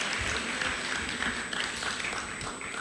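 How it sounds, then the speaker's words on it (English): Audience applause at a high school senior awards assembly, a dense, steady wash of clapping from a crowd filling the room without a break. "Let's give one more round of applause for our alumni winners"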